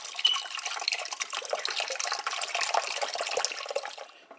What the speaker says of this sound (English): But we're going to start off with chicken stock.